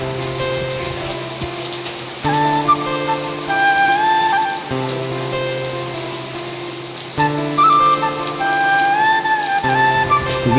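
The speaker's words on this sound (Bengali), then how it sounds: "আজ দুপুরে হঠাৎ করে বৃষ্টি শুরু হয়েছে।" A sudden afternoon rain falls in a steady, dense patter on surfaces, while melodic tonal sounds rise and fall over it in repeated phrases.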